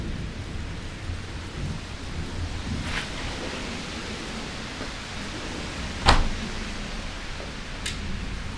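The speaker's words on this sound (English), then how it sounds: "Did you hear the thunder?" Steady rain hisses throughout while a couple of distant thunder rumbles roll in, with one sharper, nearer crack midway, during a thunderstorm in Fort Lauderdale, Florida.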